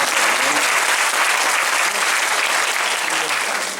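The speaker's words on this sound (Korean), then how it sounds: "여러분 박수 하셔도 될 것 같아요" A lecture audience applauds in a dense, even roar of many hands, loud and sustained for several seconds before easing slightly, with faint voices underneath.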